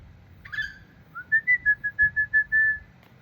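A person whistles an imitation of a king parrot's call: one rising note, then a run of about eight short, clear, evenly spaced whistled notes ending in a longer held tone, alone and close.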